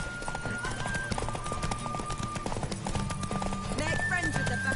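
Roach the horse trots in The Witcher 3, a steady clip-clop of hooves with a brief whinny, playing under continuous game music and ambient sound while a voice speaks over it.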